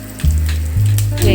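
Cumin seeds and curry leaves frying in a pan for palli karam podi, a close, loud crackling sizzle over a low hum that steps up in intensity twice during the brief moment.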